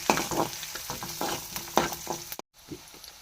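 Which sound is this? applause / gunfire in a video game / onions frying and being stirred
onions frying and being stirred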